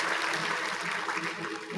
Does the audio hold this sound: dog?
no